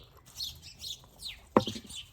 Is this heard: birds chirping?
yes